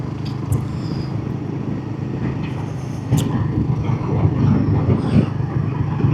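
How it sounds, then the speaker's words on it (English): A Royal Enfield 450 motorcycle with a peppy double overhead cam engine runs steadily, a low continuous drone that swells louder about halfway through, with no talking over it. "It really is a peppy motor, and it's great fun."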